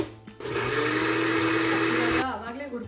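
An electric mixer grinder blending soya curry masala into a smooth paste whirs loud and steady for about two seconds after a brief start, then cuts off and spins down.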